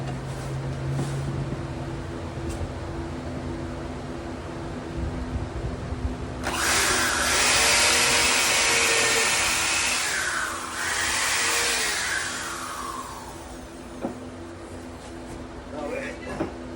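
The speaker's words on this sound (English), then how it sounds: "Okay, so we'll go ahead and get these drilled in place." A power drill driving screws into a bench built from pallets, a loud whirring burst of several seconds in the middle, with workshop noise and low hum before and after.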